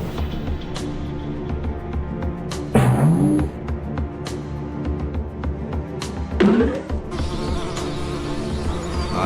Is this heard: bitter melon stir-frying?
no